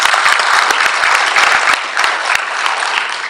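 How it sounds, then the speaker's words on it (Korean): Congregation at an outdoor Sunday church service in summer applauds in a loud, dense, continuous wave of clapping that holds steady for several seconds with no talk over it. "우리 하나님께 박수 한번 올려드렸으면 좋겠습니다"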